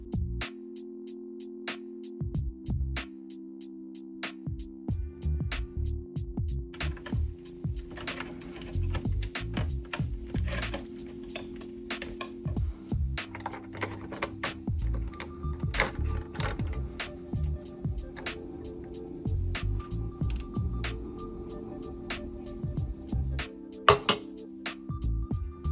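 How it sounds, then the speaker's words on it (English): A spudger prying the top metal plate off a PS5 Pro console, held down by thermal pads, gives a run of sharp plastic-and-metal clicks and scrapes, close and quiet, with a steady low hum underneath. "Use a spudger to pry the top metal plate."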